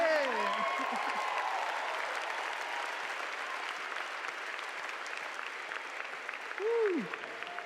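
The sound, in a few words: audience applause at a church conference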